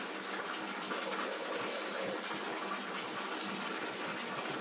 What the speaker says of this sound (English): You're washing your face.